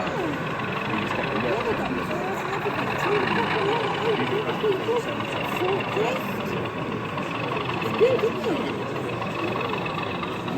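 At a model railway exhibition, a model diesel locomotive gives a continuous droning engine sound. It sits under crowd noise, with people talking close by.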